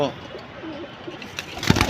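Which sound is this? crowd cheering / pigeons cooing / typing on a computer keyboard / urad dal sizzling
pigeons cooing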